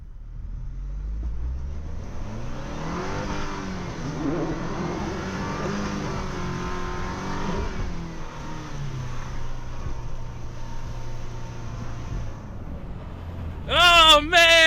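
A Chevy Colorado ZR2 climbs an icy off-road hill, its engine droning and revving with rising and falling pitch and close interior rumble. Voices talk over it.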